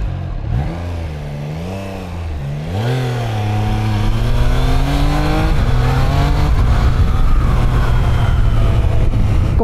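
A 2025 Triumph Trident 660 motorcycle engine pulls hard through the revs on a first ride, its pitch climbing and dipping through gear changes, loud and close throughout with no talk.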